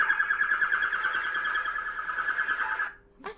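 A bat's call close by: a steady, pulsing electronic-sounding warble like a car alarm, which stops abruptly near the end.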